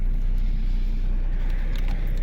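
Steady low road rumble and engine drone from inside a moving car, constant and close with no talking.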